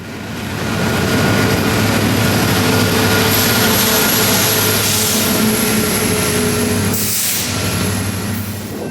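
A KCS EMD SD70ACE diesel locomotive passes close by with a loud, sustained engine roar and rumble that swells, holds steady and then eases slightly toward the end.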